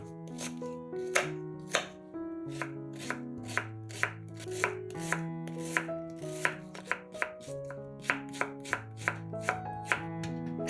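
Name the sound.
chopping onions into cubes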